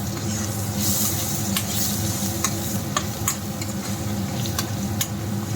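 Bottle gourd curry sizzles steadily in a pan as fenugreek powder is stirred in, a constant frying hiss broken by occasional sharp clicks of the spoon against the vessel.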